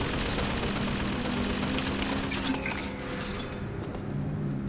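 Rapid gunfire in the shooter game BioShock Infinite, a dense continuous burst of shots filling the moment at close range, easing slightly toward the end with a low tone underneath.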